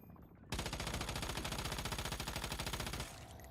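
Sustained rapid gunfire in a shooter video game, loud and dense for a few seconds with steady repeated shots, then cutting off sharply as the firing stops.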